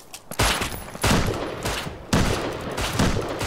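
Gunfire in the video game Rust comes in several loud, close bursts of rapid shots separated by short pauses.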